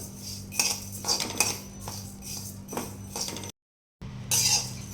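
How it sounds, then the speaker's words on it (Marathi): Indori coriander seeds dry-roast in a pan, giving close rattling, scraping and light crackling as they are moved around, briefly cut to silence near the end before resuming. "चटचट चटचट चटचट असा आवाज यायला लागलेला आहे"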